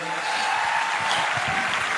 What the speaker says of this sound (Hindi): ताली तो बजा दो यार, इतना बड़ा रिजल्ट है।